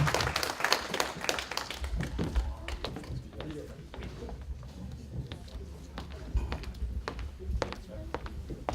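Scattered audience clapping for a president at a New Year's reception in New York, a fuller burst at first thinning into sparse claps and knocks, with voices talking through it.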